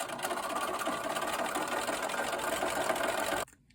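A sewing machine stitches quilt fabric with a steady, close mechanical whir that runs continuously, then stops abruptly near the end.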